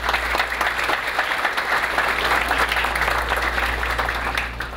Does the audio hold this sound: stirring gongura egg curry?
no